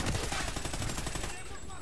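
Sustained rapid automatic gunfire in a Call of Duty: Ghosts campaign mission, dense and loud throughout, fading slightly near the end.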